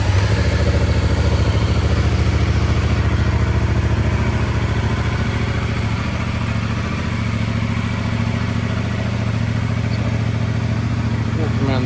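A Yamaha MT-07 Y-AMT motorcycle with a matte black finish idles steadily and close by for the whole stretch, a low, even engine drone running continuously with a faint clatter on top.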